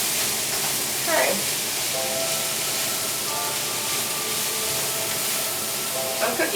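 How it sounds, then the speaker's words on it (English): Vegetables fry in a pan for Hawaiian fried rice with ham and pineapple, a steady broadband hiss and sizzle filling the whole clip, with a few faint clinks and tones over it. "I'm cooking on my veggies."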